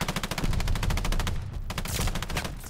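Rapid automatic fire from an unfamiliar gun in a shooter game, a tight rhythmic stream of loud, close shots for about a second and a half, a short pause, then another burst.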